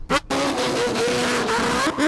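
Mazda RX7 race car drifting at Millbrook, a loud sustained engine drone with wavering pitch, close by, after a short burst of noise at the start.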